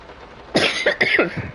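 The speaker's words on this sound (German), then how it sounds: "scheiß Husten" A man coughs in a quick, harsh string of four or five hacking bursts, close and fairly loud, after a moment of near-quiet room tone.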